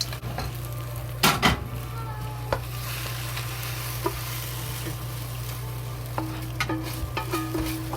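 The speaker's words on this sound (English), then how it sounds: "the rest some cilantro to decorate and fry and stir it" Crispy sweet and sour pork (Guobao Rou) is stir-fried with cilantro in a pan: a steady close sizzle under a low hum, broken by scattered sharp scrapes and clinks of the spatula against the pan.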